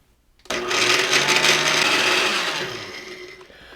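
Walnuts being chopped in a small countertop mixer for a pesto cream cheese, a loud steady motor whir starting abruptly and running on continuously, easing slightly toward the end.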